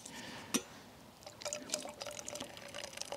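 Hot water is poured from a kettle into a Vietnamese phin coffee filter outdoors in the woods, a faint trickling and dripping pour with a small clink early on, quiet and close, with no talking.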